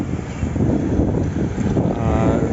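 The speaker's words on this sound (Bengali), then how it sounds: "দারুণ হাওয়া দিচ্ছে।" Wind blows hard across an open outdoor area near a field in New Town, Kolkata, giving a loud, steady low rumble of gusts against the microphone.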